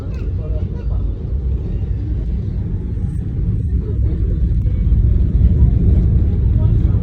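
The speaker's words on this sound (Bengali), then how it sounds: "আমাদের ট্রেন কিন্তু একটু মাথা জায়গায় কার্ভ নিল" Bangladesh Railway passenger train rounding a curve near Fulbari station, heard from inside a coach as a loud, continuous low rumble that swells slightly toward the end, with no clear speech over it.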